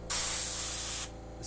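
An airbrush sprays paint onto Converse shoes in a single steady hiss lasting about a second, close and clear, starting and stopping abruptly over a low background hum.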